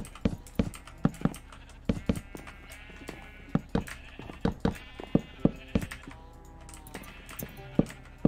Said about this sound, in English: Oh, sheep! I see sheep!